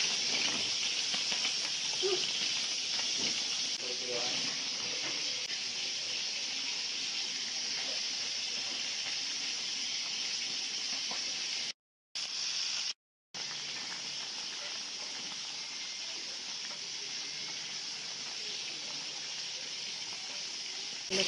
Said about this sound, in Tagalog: Tatakpan lang natin hanggang sa kumulo siya.